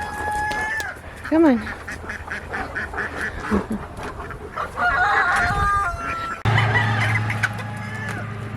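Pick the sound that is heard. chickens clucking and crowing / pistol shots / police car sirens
chickens clucking and crowing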